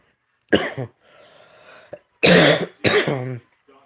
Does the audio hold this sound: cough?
yes